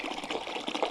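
Water running and splashing steadily at a village water point as containers are filled, a close, continuous watery gush with no voices.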